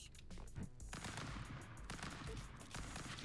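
Assault rifle fire in the video game Stick Fight rattles out in dense, rapid automatic bursts, loud and nearly continuous with brief gaps, and no talking.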